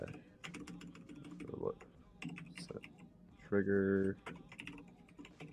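Code is typed on a computer keyboard in quick irregular bursts of clicky keystrokes, close and clear, with someone talking quietly between them and a brief whirring tone partway through.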